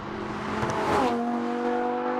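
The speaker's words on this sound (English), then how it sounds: "In sport or race mode, the exhaust note hardens and the gear shifts are instantaneous." A Lamborghini Huracán LP 580-2 in sport or race mode revs and accelerates with a hard exhaust note, its pitch rising then settling as a gear shift cuts in.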